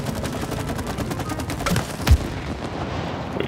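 Rapid gunfire from the co-op video game It Takes Two, a steady run of shots with a louder burst near the end, heard alone without talk.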